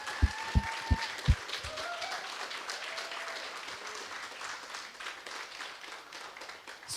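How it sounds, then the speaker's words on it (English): An audience applauding at a coding bootcamp demo day, a few loud claps at first, then sustained, moderately distant clapping filling the room. "give them a big applause before they come up to stage, because they really deserve it"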